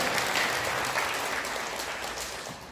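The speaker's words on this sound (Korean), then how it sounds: "먼저 이 자리를 마련해주신 우리 정호 목사님께 감사의 박수부터 보내주시기 바랍니다" An audience at a church-hosted gathering applauds in thanks to the pastor, steady moderate clapping from a crowd that tapers slightly toward the end.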